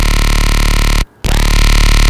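Sustained synth bass built in Serum with multiband compression, a loud, dense buzzing tone that cuts out abruptly for a moment near the middle, then returns with a sweeping filter rise and holds steady to the end.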